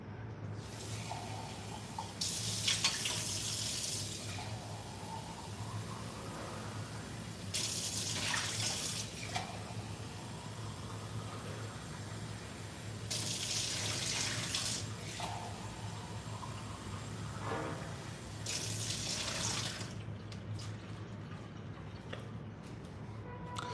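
Something gets rinsed out under a running tap, a steady faint rush of water with several brief louder splashes as the flow is disturbed, continuing throughout.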